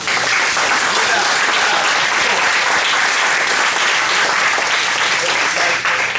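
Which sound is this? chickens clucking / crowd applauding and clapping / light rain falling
crowd applauding and clapping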